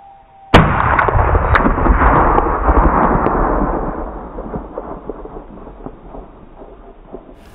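A .22 pistol, a Walther P22 or Ruger SR22, fires one sharp, loud shot close by, then a long reverberant echo that slowly decays over several seconds, with no talking.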